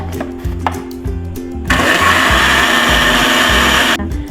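A kitchen blender whirs loudly, close by, as it purées cut peach into a smooth paste, a steady high roar of about two seconds after low mechanical knocking.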